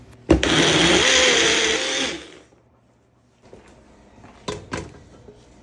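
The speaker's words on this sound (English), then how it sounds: "And then I'm going to put all the tomatillos in, blend it up nicely." A blender whirs loudly for about two seconds while blending tomatillos for salsa verde, then stops. A few quiet knocks and clatters follow after a short silence.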